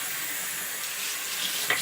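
Tap water runs steadily into a sink while hair extensions are rinsed clean of shampoo, a continuous broadband hiss with a couple of faint splashes near the end.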